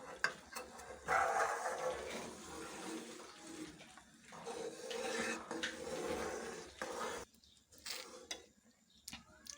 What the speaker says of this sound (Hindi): साइड पे लग जाता है, इसको आपने चम्मच की मदद से उतार देना है